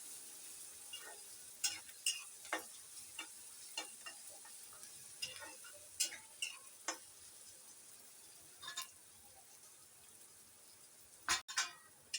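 Chopped onion for a Marathi radish bhaji sautéing in a pan, with quiet sizzling and a series of sharp spatula taps and stirring scrapes spaced through the clip.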